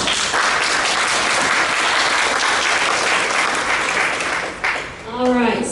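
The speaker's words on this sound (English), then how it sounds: "So she deserves a great round of applause." Audience applause at a talk on positive aging in Oklahoma, a dense, loud burst of many hands clapping for about five seconds before fading, followed by a voice starting to speak.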